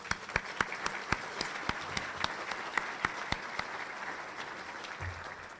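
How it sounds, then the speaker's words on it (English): Audience applause for an honoree at a Best of Madison lunch, steady sustained clapping from a room of people with sharp individual claps standing out, heard alone without talk. "One more round of applause for her."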